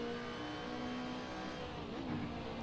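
A BMW M3 in the Assetto Corsa racing game holds a steady, droning engine note at constant revs, fairly close and continuous throughout.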